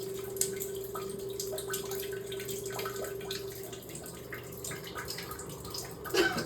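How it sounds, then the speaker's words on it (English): Water leaking from a ceiling drips onto a toilet below in a New Orleans home, a steady patter of drips and splashes over a low constant hum, fairly faint and continuous throughout. "the water's coming out of there and it's like, it's raining on the toilet"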